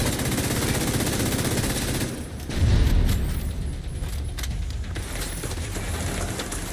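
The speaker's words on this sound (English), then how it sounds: "Ow, ow, ow, stop shooting me." Rapid automatic gunfire from The Division 2 on Xbox Series X, a steady loud clatter of shots throughout with a heavier thump partway through.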